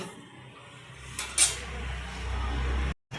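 A lid set onto a cooking pot of winter vegetables and dried fish, a short metallic clink and clatter in the middle followed by a low simmering hiss that swells before cutting off.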